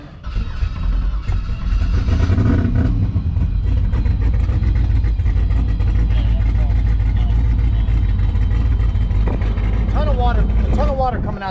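An LSX-swapped Cadillac Escalade race engine fires up and runs loudly at a rough, heavy idle at a racetrack, with a few brief voices heard over the steady rumble.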